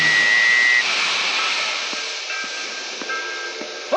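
Boat train in a classic animated cartoon, a loud steady hissing roar like steam or a rushing engine with a brief whistle-like tone at the start and faint clanks underneath.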